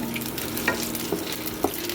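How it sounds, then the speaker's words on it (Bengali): Nigella seeds (kalo jeere) spluttering in hot oil as a tempering, with a steady sizzle and a few sharp crackling pops, close and alone. "এবার আমি একটু কালো জিরে ফোড়নে দিয়ে দিচ্ছি, বেশি দেবো না, অল্পই দেবো।"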